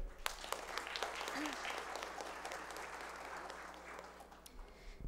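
Audience applause at a formal solemn session of a chaplaincy college, a dense, steady patter of many hands clapping that slowly thins out toward the end, heard alone without speech.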